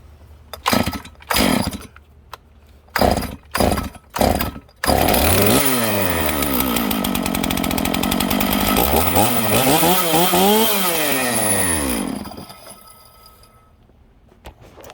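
Small lawn mower engine being started: several quick pull-cord tugs, then the motor catches and runs loud and close with a slightly rough, noisy tone, revving up and down for several seconds before shutting off and winding down.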